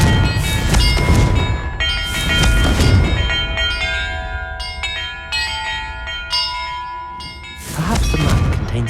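Bells rung by a spell in the video game Hogwarts Legacy: several loud, resonant bell strikes with long ringing tails, the first three coming in quick succession, then a sustained overlapping chime, then a fresh strike at the end, with no talk.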